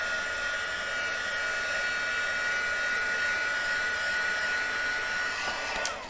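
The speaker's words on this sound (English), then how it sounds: "What I can do is just add some more heat to the back of this, which will help flatten it out." Steady, close whoosh of a heat tool blowing hot air onto the back of a handmade card to flatten it, a continuous even roar lasting throughout with no talking.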